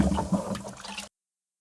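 Water poured from a pot into a poultry drinker on a farm: a close, steady splashing pour lasting about a second before stopping abruptly.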